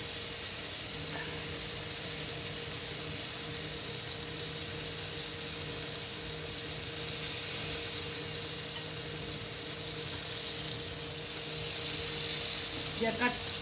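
Thick yam slices fry quietly in hot oil over a low-to-medium flame, giving a soft, steady hiss that runs unbroken throughout, with faint clinks near the end.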